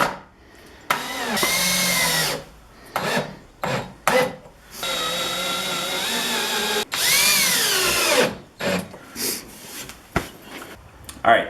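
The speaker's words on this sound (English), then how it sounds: "make sure it drills nice and crooked" A power drill bores pilot holes into a sheet of acrylic, whining loudly in several long bursts with short pauses between them, with brief scraping and handling sounds in the gaps.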